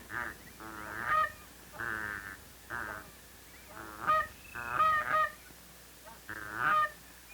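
Goose honking in repeated loud, nasal calls, about seven bursts in uneven rhythm, close and clear over a quiet background with no talk.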